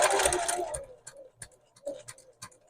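A Janome sewing machine with a size 16 denim needle stitches in a short loud opening burst. Scattered ticks and clicks follow as the machine is run slowly.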